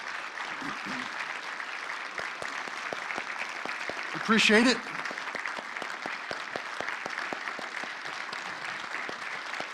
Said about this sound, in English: If you give him a hand of applause